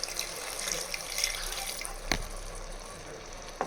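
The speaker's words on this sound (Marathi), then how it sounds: "तर यामध्ये आता आपण थोडं थोडं पाणी ॲड करणार आहोत।" Warm water poured little by little onto chicken cooking in a clay pot, a quiet trickling and splashing with a couple of sharp clinks against the pot.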